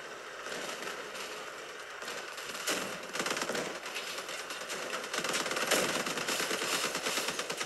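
Continuous machine-gun fire from enemy vehicles in the Crossout vehicle combat game, a dense rattling barrage that swells and fades in waves, loud and sustained with no talk over it.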